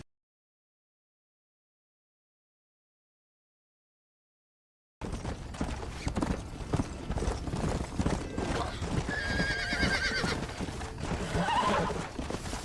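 In Red Dead Redemption, horse hooves clip-clop steadily while a horse whinnies loudly, after about five seconds of silence, with mechanical clicks and faint voices mixed in.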